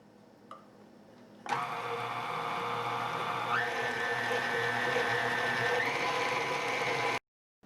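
An electric mixer starts with a sudden jump in level and whirs steadily while beating peppermint and vanilla extract into buttercream, a continuous mechanical drone with a faint rising whine midway, then cuts off abruptly.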